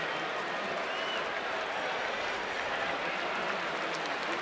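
Baseball crowd at a San Francisco Giants home game applauding pitcher Barry Zito, a steady, dense wash of clapping and crowd noise that fills the whole stretch at a constant level.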